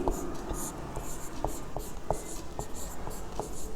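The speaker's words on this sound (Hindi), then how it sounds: "वही हम लिख देंगे यहाँ पर" Chalk or pen writing by hand during a physics lesson on reflection from spherical mirrors, a series of short scratchy strokes and taps under quiet background murmur.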